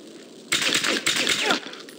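Rapid gunfire bursts from the James Bond 007: Blood Stone video game, two loud sharp volleys of automatic fire with brief gaps, set amid game combat.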